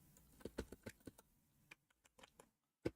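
Typing on a computer keyboard, a bursty run of close, crisp keystroke clicks with brief pauses, ending in one sharp isolated key hit, with no talking.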